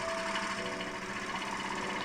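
A sewing machine running steadily while stitching the first seam of a fabric joey pouch, a continuous close whirring drone with a faint tonal whine and no pauses.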